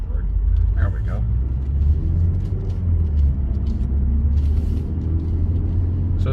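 A car driving through Saratoga Spa State Park in Saratoga Springs, New York, a steady low engine and road rumble heard from inside, with a person talking over it.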